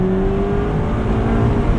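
Engine of a 2023 Mazda MX-5 Miata Grand Touring droning steadily under load, a loud, constant hum heard from inside the car during a short drive, no voices.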